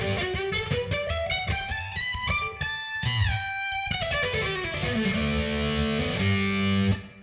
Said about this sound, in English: Boss DS1, the ubiquitous distortion pedal.